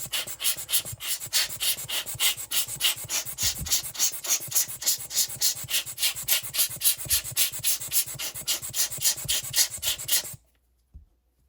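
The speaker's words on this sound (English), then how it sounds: "Use the hand blower at this point." Hand air blower used to clean Apple AirPods, squeezed rapidly in a fast, even series of puffy bursts for about ten seconds before stopping.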